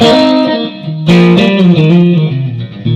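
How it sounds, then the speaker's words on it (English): Electric guitar plays a melodic phrase with overdriven grit from a Nobles ODR-1 pedal, notes bending and sustaining under a wash of lush Sir Bella reverb, loud and close. "You're hearing this Sir Bella reverb right here behind me with just a little bit of the Nobles ODR1 on."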